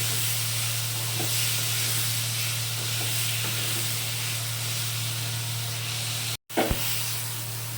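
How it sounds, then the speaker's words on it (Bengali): Soybean chunks with salt and turmeric fry in a pan, giving a steady, close sizzle that runs evenly throughout, broken by one brief dropout and a small clatter near the end. "আর হলুদ দিয়ে দিচ্ছি দিয়ে সোয়াবিনটিকে আমি ভালো করে ভেজে নিচ্ছি"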